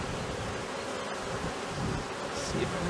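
Honeybees buzzing close around an open hive during an April inspection, a continuous droning hum with rustling and handling noise, steady and fairly near.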